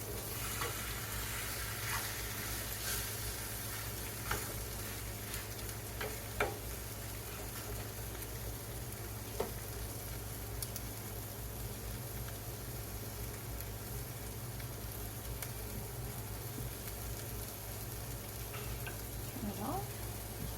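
Food sizzles steadily in a frying pan during a home breakfast cook, a continuous quiet hiss with a few faint clicks and scrapes as it is turned, no voices.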